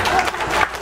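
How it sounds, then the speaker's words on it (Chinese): Brief burst of audience clapping at a health seminar, a dense close patter of many hands lasting under a second. "掌声鼓励鼓励"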